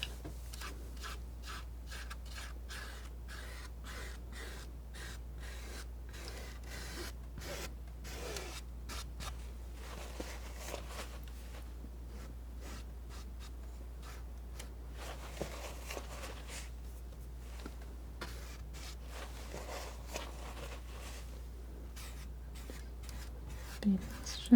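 A palette knife scrapes and smooths paint across a canvas in soft, close, repeated strokes, quiet rubbing textures broken by small taps, during a painting of a cat in a yard, with gentle speech at times.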